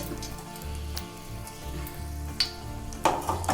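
Bay leaves frying in hot oil in a pot for mutton pulao, a steady close sizzle with small crackling pops and a faint stir or clink near the end.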